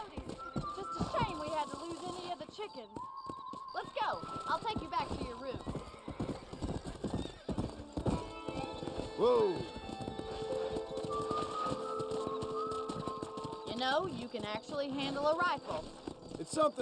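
Horse hooves clip-clopping in the Western video game Red Dead Redemption, a steady rhythmic gait with occasional whinnies, mixed with game music and someone talking over it.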